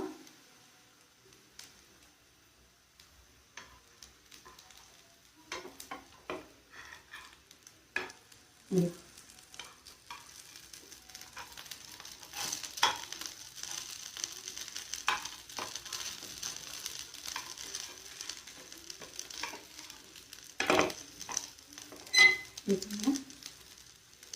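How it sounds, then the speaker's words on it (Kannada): Aloo tikki potato cutlets frying slowly on a low flame, a quiet soft sizzle with scattered light crackles and occasional scraping stirs, faint throughout. "ಈ ಥರ ಸಣ್ಣ ಉರಿಯಲ್ಲೇ ನಿಧಾನಕ್ಕೆ ಬೇಯಬೇಕು."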